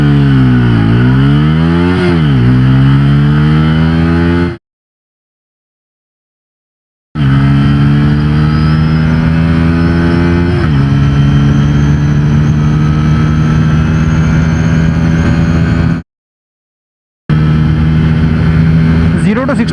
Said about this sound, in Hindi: अब एक बार टेस्ट करते हैं कि ये बाइक 0 to 60 और 0 to 100 की स्पीड कितने टाइम में अचीव करती है स्पोर्ट्स मोड में